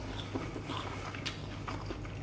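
Teeth bite into crispy fried chicken, giving a few short, crunchy bites and chewing noises close up. The sounds are fairly faint and come without talk.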